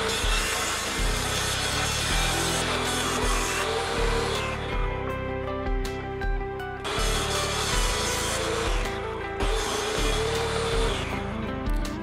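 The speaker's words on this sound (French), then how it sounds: "je le découpe à la scie sauteuse." A jigsaw cuts through wood, cutting a hole for a pulley in the wooden body of a homemade lapidary sander. It buzzes in rough, continuous bursts that pause briefly and restart, close and fairly loud.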